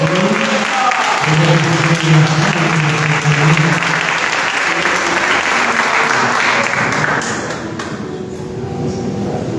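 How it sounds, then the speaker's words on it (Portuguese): A church congregation claps and cheers during a family worship service, a dense loud wash of applause with voices and music underneath, easing slightly toward the end. "Quero que você dê a melhor salva de palmas ao nosso Deus"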